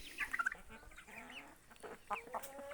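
Backyard chickens cluck in short chirpy bursts, with a couple of quick clusters near the start and a few more calls toward the end over faint farmyard background.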